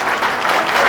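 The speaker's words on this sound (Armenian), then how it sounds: "Ապրեք ծափերի համար" Steady applause fills the moment at a family celebration in Hoktemberyan, Armenia, a dense wash of many hands clapping close and loud without a break.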